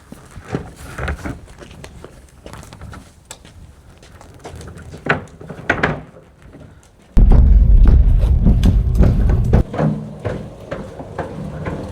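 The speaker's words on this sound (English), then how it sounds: "So we should be able to just lift up this board and slide this on. Now, we should be able to wheel it around." A sheet of wood rides on a wheeled cart. Scattered knocks and thuds come first, then a heavy rolling rumble for a few seconds as the cart is pushed along, fading back to lighter clatter.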